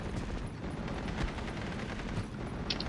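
Tank gunfire from a Panzer III engaging a Panzer IV in the WWII strategy game Steel Division 44: dense, continuous battle noise with rumbling low end, a sharper crack about midway and a faint high chirp near the end.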